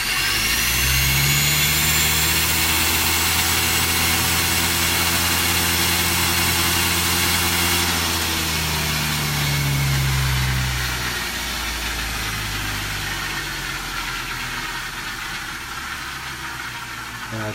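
A Fantom V3R 13.5 brushless motor spins on a dyno with a loud, steady whine whose pitch sweeps and then eases off toward the end, no voices.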